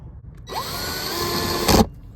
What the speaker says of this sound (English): Now the upper screw goes in.